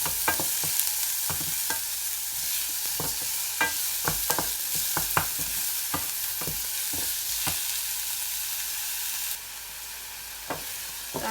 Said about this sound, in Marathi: चांगला फ्राय करून घ्यायचा तो